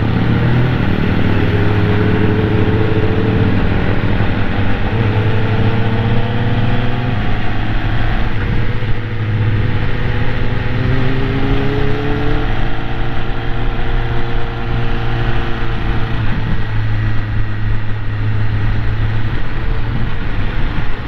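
A BMW S1000R and a Kawasaki ZX7R riding together on the road give a continuous, close engine drone with gentle rises in pitch, mixed with steady wind rush and no speech.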